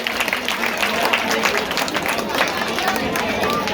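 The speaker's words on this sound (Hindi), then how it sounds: "एक बार जोरदार तालियों से बच्चों का हौसला बुलंद करेंगे।" Applause and crowd noise fill a stage event welcoming children at an Ambedkar Jayanti celebration in Jahangir Puri, a steady, dense clapping wash with a loud, busy crowd throughout.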